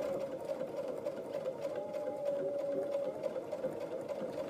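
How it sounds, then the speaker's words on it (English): A sewing machine runs a straight stitch around a clothesline bread proofing bowl, giving a steady, close mechanical whir with a fast even rhythm that goes on throughout and is heard alone. "I'm gonna come here and I'm just gonna sew my straight stitch"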